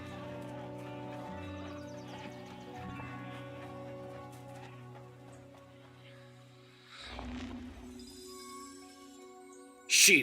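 Sheep bleating in the video game Summerhill, heard over sustained harmonic game music, with a brief louder animal call partway through and a sharp burst at the very end.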